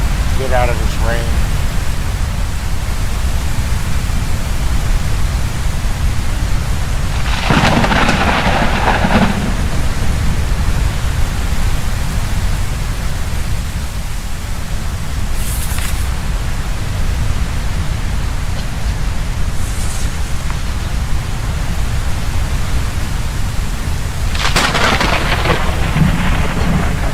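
Steady heavy rain in the zombie survival game HumanItZ, a constant loud wash with bursts of thunder rumbling through it near 8 and 25 seconds; a voice talks intermittently over the storm.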